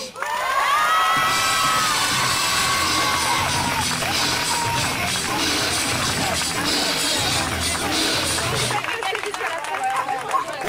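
A crowd at a show-jumping award ceremony in Lamotte-Beuvron cheers, shouts and claps steadily and loudly as medal winners step up, with children's shouts and chatter mixed in throughout.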